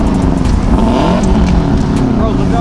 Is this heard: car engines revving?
yes